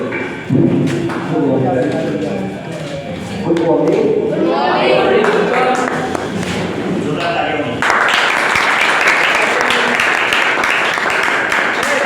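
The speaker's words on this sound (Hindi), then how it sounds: "जोरदार तालियों से" Loud applause from the audience at a stage show, The Paradise Show. A voice talks over a lively background first, then dense, even clapping rises sharply and holds to the end.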